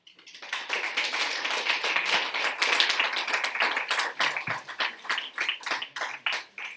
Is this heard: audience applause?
yes